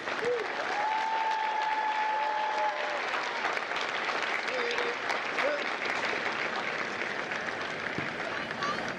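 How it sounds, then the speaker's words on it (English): Sustained applause from a large audience at a Marine Corps recruit graduation ceremony at MCRD San Diego, honoring India Company staff; steady dense clapping fills the clip with faint whistles and cheers mixed in. "Ladies and gentlemen, please join me in a round of applause for the company staff of India Company."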